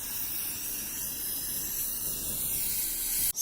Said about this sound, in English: so I'm just going to go ahead and spray